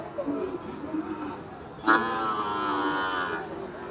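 Cattle at a busy cow market near the India–Bangladesh border, with a clear drawn-out moo rising midway over a background of crowd chatter and someone talking.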